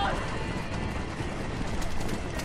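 Horses gallop in Red Dead Redemption, a steady, dense clatter of hooves with rumbling movement, close and continuous throughout, mixed with faint whinnies and background game sound.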